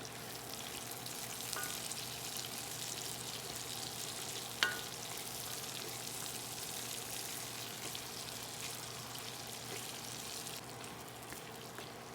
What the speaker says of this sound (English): now I'm going to add those peppers. And we'll fry them up too.